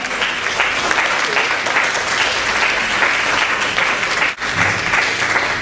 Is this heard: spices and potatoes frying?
no